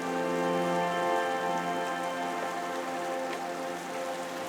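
Steady rain falls along the coast of Ulleungdo island, a dense, even hiss of drops hitting surfaces that holds at a constant level throughout, with no voices.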